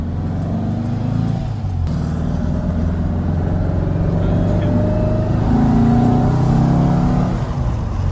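A Porsche 356 engine hums and builds as the car accelerates, a steady rising drone with a brief rattle early on.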